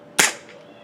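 A Jag Arms Scattergun gas-powered airsoft shotgun fires one load of six BBs, a single sharp, close pop with a quick gassy hiss that fades quickly.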